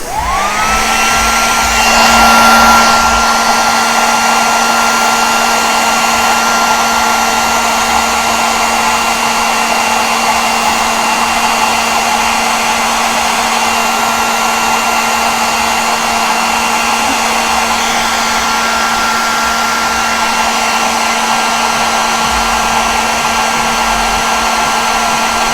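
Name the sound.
blow dryer drying paint on miniature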